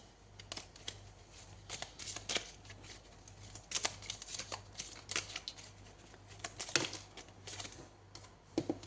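Tarot cards are shuffled and handled close up, giving soft, quick, irregular riffling and flicking bursts throughout, quiet and without talk.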